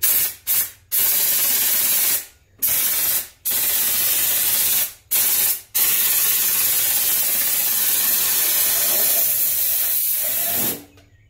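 A spray gun blasts acetone into a trash can in repeated loud hissing bursts, short trigger pulls broken by brief silences, then a long continuous spray that fades at the end.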